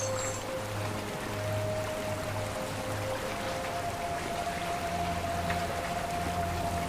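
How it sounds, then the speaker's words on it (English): Steady rushing of flowing water in the ancient Roman-style game The Forgotten City, a continuous trickling wash with faint tonal hums beneath, no voices. "I do hear flowing water."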